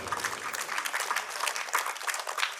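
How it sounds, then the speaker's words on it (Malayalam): An audience at a residents' association cultural meeting gives a short burst of applause, with many hands clapping together in quick, dense succession, sounding somewhat distant and soft. "കൊടുക്കാം നല്ലൊരു കൈയടി"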